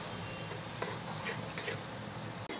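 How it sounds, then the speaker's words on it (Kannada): Onions fry hard in hot oil, a dense, loud, continuous sizzle heard up close with a few small stirring clicks, cooking for a mushroom donne biryani. "ನೋಡಿ, ಈರುಳ್ಳಿ ಚೆನ್ನಾಗಿ ಫ್ರೈ ಆಗ್ತಾ ಇದೆ."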